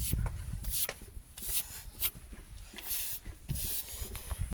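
A brush being drawn over a horse's coat in quick, close, rhythmic strokes, each a soft scratchy swish, repeating steadily outdoors.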